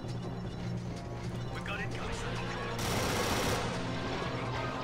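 Units open fire in Star Wars: Galaxy at War, a blur of blaster-style gunfire rattling continuously under a busy battle din, with a sharper burst swelling in partway through and holding to the end.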